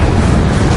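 The Incendio fire spell cast in the game Hogwarts Legacy, a brief, loud, roaring burst of flame.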